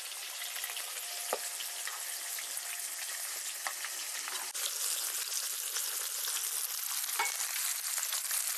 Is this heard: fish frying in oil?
yes